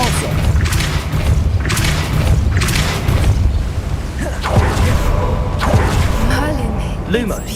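Depulso spell cast in the game Hogwarts Legacy, producing a deep booming thud with a whooshing rush and scattered impacts, heavy and close, with character voices and game ambience underneath.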